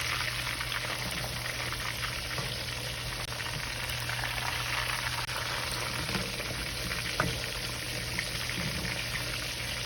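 Whole fish for escovitch fish fries in hot oil with a dense, steady sizzle and crackle, continuous and close, with occasional small pops and no talking.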